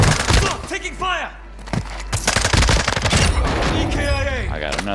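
Bursts of rapid automatic gunfire and single shots crack in a shooter video game, loud and close, coming in clusters with short pauses while players talk excitedly over the shooting.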